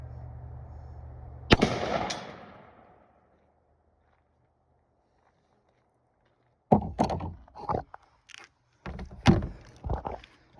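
One loud, sharp 8mm Mauser rifle shot strikes a mild steel plate with a ringing crack that decays over a second, followed by silence and then rustling and handling noises nearby.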